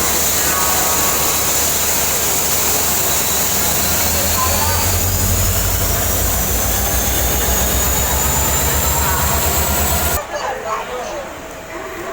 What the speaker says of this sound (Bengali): দেখ আমাদের ট্রেন চলে এসেছে